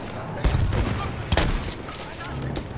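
Gunfire in Battlefield 1, heard as bursts of rapid shots and sharp cracks at close to middle distance, with a player talking over the shooting.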